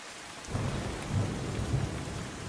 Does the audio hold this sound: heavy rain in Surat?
yes